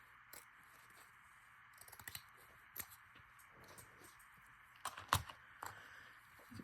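Scissors snipping small paper strips, a few quiet close cuts and clicks scattered over a soft background hiss.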